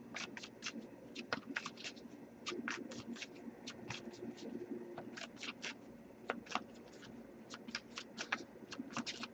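Oracle cards are shuffled by hand during a tarot love reading, a quiet, close series of crisp riffling and flicking bursts repeating irregularly over several seconds, with no talking.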